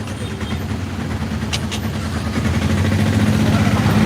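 A vehicle engine runs on a busy road in heavy traffic, a steady low droning rumble that grows slightly louder and fuller over a few seconds, with brief higher hisses passing.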